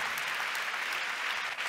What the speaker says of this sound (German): Großen Applaus von euch nochmal an die 5 Teams